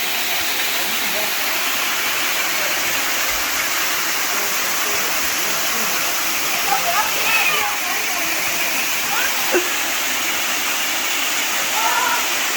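Honey Run Waterfall in Howard, Ohio rushes in a loud, steady hiss of falling water, with brief voices speaking faintly over it toward the end.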